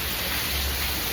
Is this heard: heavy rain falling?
yes